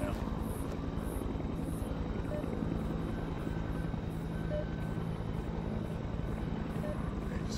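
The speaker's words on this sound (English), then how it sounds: "This helicopter." Helicopter flying overhead in the horror video game They Are Here, a steady rotor drone with a low chopping pulse that holds constant throughout, fairly close and continuous.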